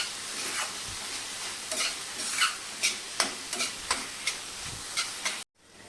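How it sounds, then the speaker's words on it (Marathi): Monsoon wild greens tossed with onions in a frying pan: a steady, close sizzle with a series of sharp scraping stirs recurring about every half second, then cutting out abruptly near the end. "भाजी कांद्यामध्ये छान मिक्स करून घेतली"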